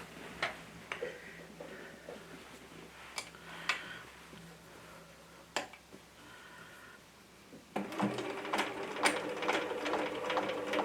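A home sewing machine running in quick mechanical ticking bursts as it top stitches fabric along a seam, pausing briefly before a louder, busier stretch of stitching near the end.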